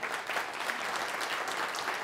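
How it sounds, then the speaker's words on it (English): Appreciative applause from a breakfast briefing audience at Stanford University, a steady wash of many hands clapping together, fairly distant and even, with no distinct voices over it. "Would you join me in just giving her a clap of appreciation?"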